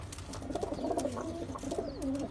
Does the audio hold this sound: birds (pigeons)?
yes